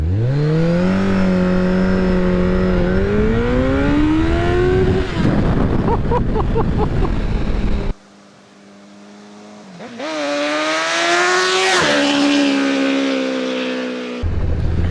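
Honda Blackbird sport motorcycle engine revs hard and rises in pitch as it pulls away, with a gear change midway, a brief drop, then another loud climbing rev; up close with no talk.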